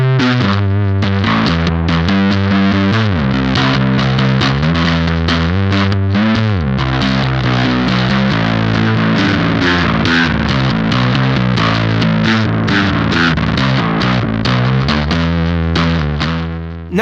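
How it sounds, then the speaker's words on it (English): Electric guitar through a Tallon Electric Dual Drive pedal on its compressed transparency setting, a continuous loud, dense distorted riff with steady sustained chords and fast picked notes throughout, close and unbroken. "hear how the compressed setting on the transparency toggle sounds"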